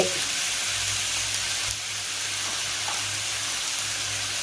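Ivy gourd (tondekai) frying in a pan gives a continuous, fairly quiet hiss like light rain, with a faint scrape of stirring and nothing else over it.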